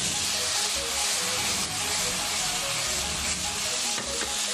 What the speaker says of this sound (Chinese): 然后倒入这个调味汁。